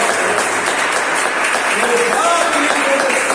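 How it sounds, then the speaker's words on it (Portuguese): A church congregation applauds loudly and steadily throughout, a dense wash of clapping with voices calling out over it. "Aplauda Jesus bem forte."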